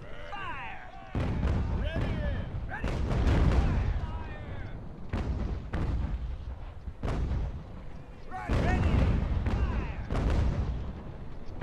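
Cannons fire from sailing warships in the Ultimate Admiral: Age of Sail naval battle game, a string of booming shots in clustered volleys while someone talks over the gunfire.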